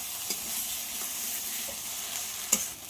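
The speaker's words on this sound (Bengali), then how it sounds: "এবার খুব ভালো করে কষিয়ে নেব।" A blended onion and spice paste being stir-fried in a pan over low heat: a steady close hiss of frying, broken by a few soft scrapes and taps of the stirring spoon, with no voices.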